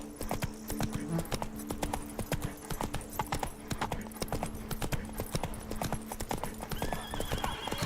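Roach the horse gallops in The Witcher 3: Wild Hunt, Blood and Wine, with hooves pounding in a fast, steady, unbroken rhythm over sustained game music.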